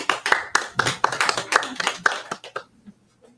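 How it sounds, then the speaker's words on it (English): Small audience at a bookstore author event clapping for a young-adult writer: scattered, distinct hand claps from a modest group, lively at first and then thinning out and fading to quiet. "please join me in a round of applause for Michelle Mason."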